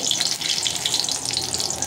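Cumin seeds and whole dried chillies sizzling in hot oil for an Indian spinach-stem and potato dish, a continuous bright, hissing fry close up without pauses.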